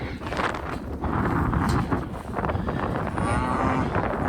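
Cattle moo on a cold day at a ranch in northeast Kansas, a loud, drawn-out low call close to the microphone with wind buffeting throughout.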